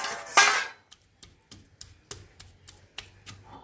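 Chicken meat pounded for cutlets: one louder clatter at the start, then a run of about ten light, evenly spaced thuds and taps, close and fairly quiet.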